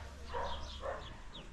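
Thin stray dogs barking near Lake Sevan in Armenia, a few faint, distant barks and yips over a steady low background hum.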